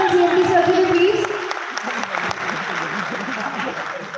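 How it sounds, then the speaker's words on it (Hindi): Audience applause at a third-anniversary stage program in honor of two company heads, a dense wash of clapping that begins loud, then thins out and continues at a lower level behind a steady murmur. "दोनों सर्स के लिए एक बार जोरदार तालियां MD sir and CMD sir के लिए प्लीज।"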